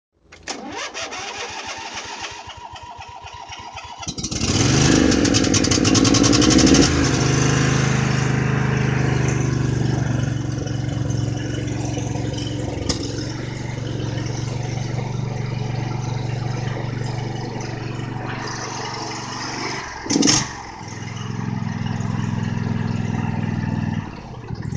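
Le Sabre riding lawn mower engine cranks and catches after a few seconds, then settles into a loud, steady idle with a brief dip and restart of the drone near the end, no talking.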